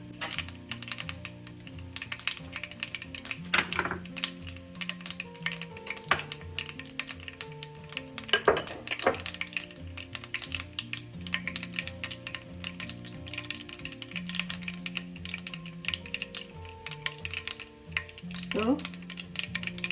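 Seeds crackle and splatter in hot oil for a fish curry, giving a dense, steady crackle with a few louder sharp pops, close up and continuous.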